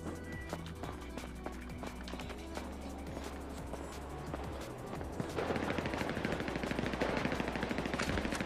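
Rapid automatic gunfire and repeated shots from a GTA 5 rooftop deathmatch, dense bursts layered over a steady game background hum, growing louder and busier in the second half.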